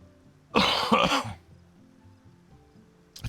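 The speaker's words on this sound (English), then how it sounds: "I'm coughing up a storm and I don't want to cough anymore" A person coughs hard in a burst lasting about a second, two or three rough hacks close together, then quiet room tone with a faint throat noise near the end.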